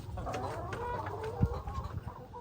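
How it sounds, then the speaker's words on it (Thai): Laying hens cluck steadily in a backyard pen in a Lao family garden in Terrell, Texas, their soft repeated calls close by over a continuous low rustle, with one sharper bump partway through. "ไก่ไข่นะไก่เก็บไข่มัน"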